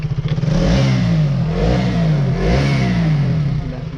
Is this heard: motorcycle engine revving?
yes